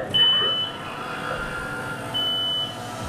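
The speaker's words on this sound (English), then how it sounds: "open the dock cover" A DJI Dock 3 drone docking station opens its cover, with a steady mechanical motor hum and two long high electronic beeps, one at the start and one later, fairly close and loud.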